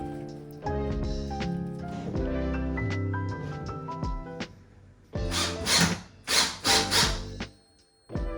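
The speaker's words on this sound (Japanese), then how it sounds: "皿取り切りとはこんな形状のドリルで、ビスの頭が出ないように削ってくれるドリルです。" A countersink drill bores into wood in several short, loud whirring bursts with brief pauses between, after a quieter stretch of tonal background sound.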